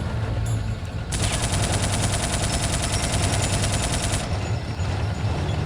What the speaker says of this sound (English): How's this tank taking all these fucking shots?